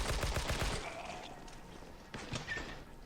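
Gunfire from the survival horror game Heaven Dust 2 as zombies are shot down in a tomb: a rapid burst of loud, close shots at the start, then a quieter stretch and a few more shots near the end.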